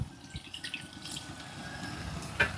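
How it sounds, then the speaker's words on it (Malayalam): Water poured into a cooking pot of spiced masala for potato curry, a soft steady trickle and drip close by, with faint clinks and no talk. "നമ്മൾ ഇതിലേക്ക് കുറച്ച് വെള്ളം ഒഴിക്കണം. ഒരു അരക്കപ്പ് വെള്ളം കേട്ടോ."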